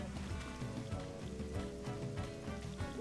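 Raindrops patter steadily in Mario & Luigi Brothership, a soft, continuous rain sound on a surface with game music, fairly faint and without talk.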